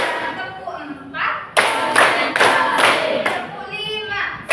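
A classroom clapping routine: after a short stretch of voices, a group of pupils strikes several sharp, loud unison claps in a quick rhythmic pattern, with talk between the bursts.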